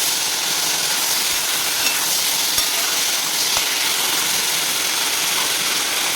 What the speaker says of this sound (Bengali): লবণটাকে ভালোভাবে আলুর সাথে মিক্স করে নেব